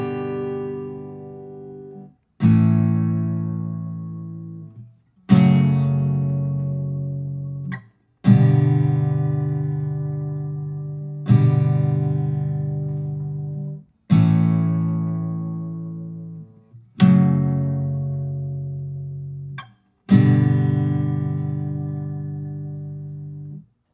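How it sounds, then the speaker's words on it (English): Guitar strums the chorus chords of a song, each chord struck once and left ringing: eight full, even strums spaced a few seconds apart, each decaying before the next, with no voice. "So the chorus uses the same chords as the pre-chorus, but we're going to strum each of them once"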